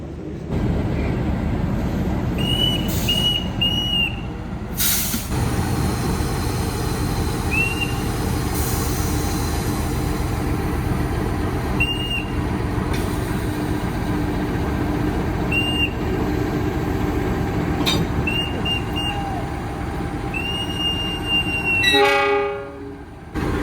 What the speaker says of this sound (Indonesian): ini dia lokomotif dinas kereta api Gajayana kali ini